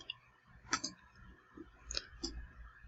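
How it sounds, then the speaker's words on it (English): A few soft mouse clicks on a computer link, quiet and spaced apart, in an otherwise hushed room with no voice. "So click that."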